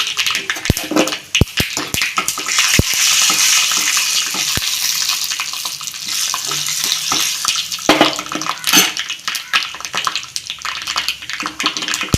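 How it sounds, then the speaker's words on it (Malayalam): Mustard seeds crackle and splutter in hot oil for a Kerala-style dal and raw banana curry, a dense sizzle with scattered sharp pops throughout, close and fairly loud, with no voices. "കടുക് പൊട്ടി വരുമ്പോൾ ഇതിലേക്ക് പച്ചമുളക് മുറിച്ചിട്ട്"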